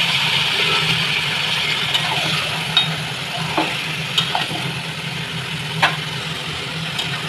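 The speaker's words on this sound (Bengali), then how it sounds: "তো চিকেনগুলো একটু ভালো করে আমি একটু কষিয়ে নেব" Chicken pieces sautéing with softened, browned onions in a pan: a steady sizzle with occasional scraping stirs, close and continuous, no talking.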